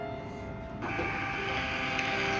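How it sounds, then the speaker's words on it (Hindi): A POSYTUDE RAZE B88 touch POS restaurant billing machine prints a receipt, a steady mechanical whir that starts abruptly partway in and runs loud and continuous to the end, with no talk over it. "मैं दोबारा इसको एक बार प्रिंट करके दिखाता हूँ"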